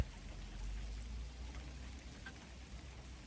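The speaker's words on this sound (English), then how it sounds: "Looks like you're going to get some nature sounds of rain." Rain falls steadily outdoors on a deck, a soft continuous hiss with a low rumble underneath and no talking.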